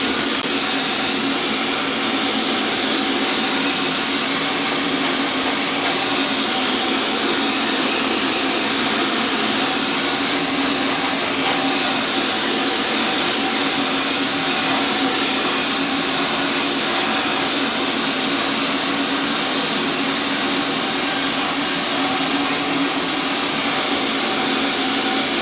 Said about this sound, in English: we're going to set it to hot, and we're going to blow dry my hair, and I want you guys to see it in real time